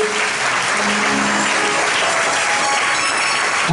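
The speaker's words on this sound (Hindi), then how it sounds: "जोरदार ताली बजाओ यीशु मसीह के लिए," A church congregation at a deliverance prayer meeting bursts into loud, sustained applause, a dense wash of clapping hands that stays steady and close for the whole stretch.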